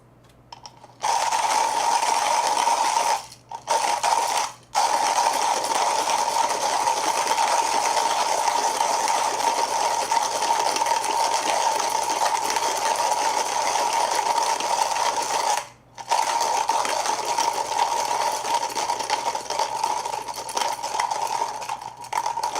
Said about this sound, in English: As usual, these beans emit a very strong aroma when grinding.